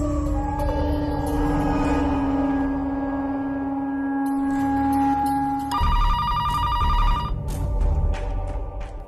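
A telephone rings indoors. Steady tonal chimes sound, then a brighter, rapidly trilling ring takes over partway through, with background music underneath.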